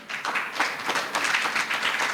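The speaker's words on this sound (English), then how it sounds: "A round of applause for all of them." Audience applause at a women in finance and investment networking event in Ghana, a short burst of scattered clapping at moderate level, fairly close, with no talk over it.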